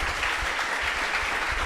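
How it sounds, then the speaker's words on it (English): Audience applause at a startup pitch event, a dense steady wash of many hands clapping together, sustained and fairly loud throughout. "A lot of applause to NappyMe."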